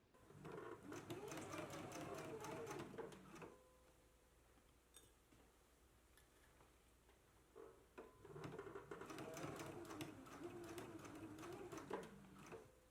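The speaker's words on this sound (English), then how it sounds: "Let's go ahead and do a basting stitch and our regular stitch now." Two bursts of rapid, rattling stitching come from a sewing machine basting a collar, separated by a quiet pause with a few light clicks, and the machine restarts for a second run before stopping.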